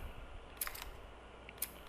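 A camera snaps photos on a city street in The Last of Us: Left Behind, giving a quick pair of faint shutter clicks followed by two more isolated clicks over quiet ambience, with no talking.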